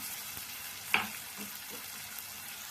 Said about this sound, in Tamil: இந்த தக்காளி நல்லா வதங்கி வரணுங்க அப்போ தான் கரெக்டான இது வரும் மசாலா அப்படியே வதங்கட்டும்